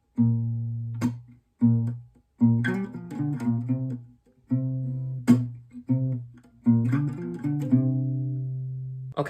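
A looping guitar riff in the style of a song's live version plays alone from start to finish in short repeated strummed phrases with clear gaps, moderately loud and close.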